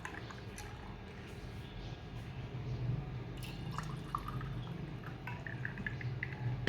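Juice pours into homemade sattu sharbat in a home kitchen, a steady close liquid stream with dripping and splashing that rises slightly midway and carries on throughout, with no talking.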